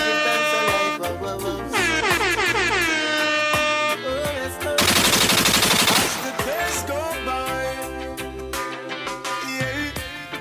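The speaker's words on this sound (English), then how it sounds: "Air horn." Several long, blaring air horn blasts ring out loud over thumping music, then cut off suddenly for a burst of dense noise before the horn-laden beat carries on.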